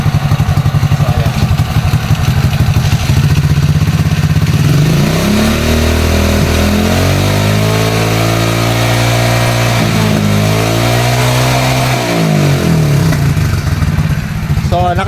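A stock motorcycle engine idles with a fast low putter, then revs up to a sustained high-rpm drone and drops back down, loud and close, with a voice talking over it.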